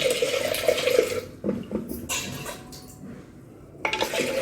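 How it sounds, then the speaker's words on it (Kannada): Water is poured into a cooking pot for boiling lentils in a Bidar-style kitchen, coming in uneven splashing bursts with brief pauses between them. "ಇದ್ರೊಳಗೆ ನೀರು ಹಾಕಬೇಕು."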